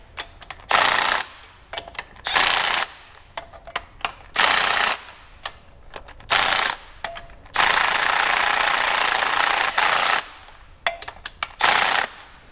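Impact wrench driving the clutch bolts on a 2016+ Mazda MX-5 Miata in a crisscross pattern, loud close bursts of hammering rattle about a second each, one longer run in the middle, with short ratchety clicks between.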